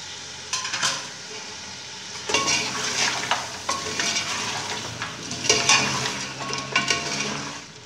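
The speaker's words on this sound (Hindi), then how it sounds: "अब इसके अंदर पाए ऐड करेंगे। पाए भी मैं अच्छी तरह भून लूँगी।" Mutton trotters (paya) frying in masala in a pan, a steady sizzle broken by scraping stirs and clinks of a spoon against the metal, close and continuous.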